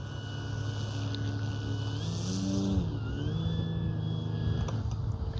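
A Hangar 9 J-3 Cub RC plane's 10cc engine drones steadily as it taxis on grass, with a clear buzzing tone that rises slightly in pitch midway, close to the microphone and with no talking.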